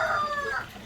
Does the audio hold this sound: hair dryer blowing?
no